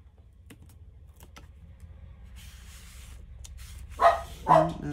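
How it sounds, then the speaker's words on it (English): Two short dog barks ring out near the end, moderately close, after a quiet stretch with faint clinks and shuffling. "Excuse the dog barking."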